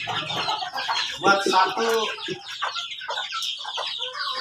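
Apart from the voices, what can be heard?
chickens clucking at feeding time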